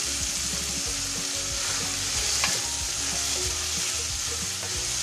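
Onions stirred and sautéed in a pan for sweet and spicy hotdog, a steady close sizzle with repeated scraping stir strokes throughout, no talking.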